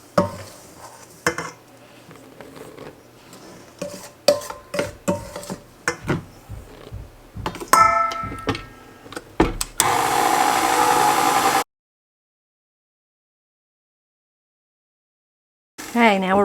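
An electric stand mixer beats oatmeal crispies cookie dough as dry ingredients go in, giving irregular clanks and knocks before a steady loud whirring run that cuts off abruptly, then starts again briefly.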